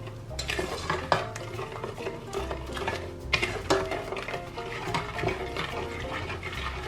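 Butter, sugar and golden syrup being stirred together in a pan for Christmas flapjack, with steady scraping and gentle bubbling, a few sharper utensil knocks against the pan, and continuous low background hum.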